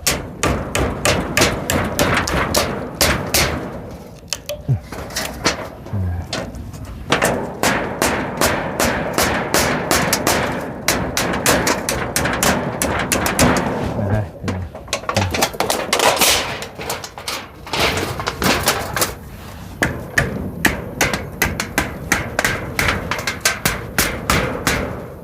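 Nails being hammered into wood by hand during outdoor building work, a long run of sharp, loud, close blows in quick rhythmic bursts with brief pauses between series.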